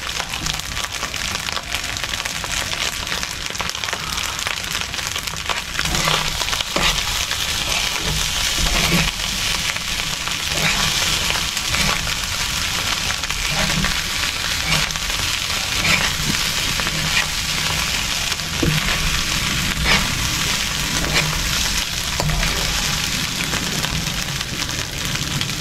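Food frying in a pan while it is stirred and mixed, with a dense continuous sizzle and crackle close by and occasional scraping clicks, steady and fairly loud throughout, no speech.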